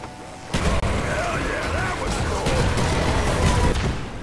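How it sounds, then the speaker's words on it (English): Grenade blasts in the Black Ops video game, a burst of loud explosive booms and crashing debris starting about half a second in and rumbling on, with faint voices under the din. "Throw your grenades."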